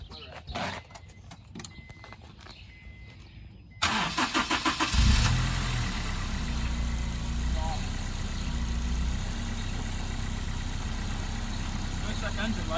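A Honda S2000 engine cranks with a rapid stutter, catches, and settles into a loud, steady idle rumble, with brief voices beforehand.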